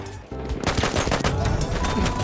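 Rapid, dense bursts of pistol fire from a WWI Modelo 1915 in a video game, close and loud, sustained almost without pause after a brief quiet start.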